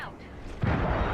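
A frag grenade bursts in a first-person shooter game as a loud, low boom about halfway through. Rumbling debris and game chatter follow it.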